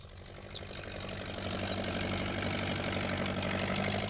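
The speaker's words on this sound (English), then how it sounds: "when Peter Fogg came along on his tractor." A cartoon tractor engine runs steadily, its low throbbing idle swelling slightly louder and holding a dense, even rumble for a few seconds with no talking.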